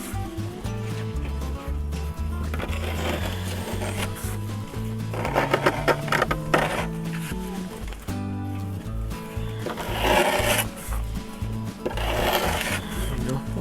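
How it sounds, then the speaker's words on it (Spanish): A cement flower pot is polished by hand with uneven bursts of rubbing and scraping, some louder and grittier than others, close up, over a steady tonal background. "De ahí ya comienzo a pulir."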